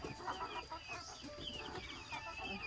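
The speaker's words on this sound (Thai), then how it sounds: "มันจะมี ไก่ดำไก่บ้านไก่เมือง" Native Thai black chickens cluck softly in the background of a rural village farmyard, a faint, busy murmur with scattered short calls and no one speaking.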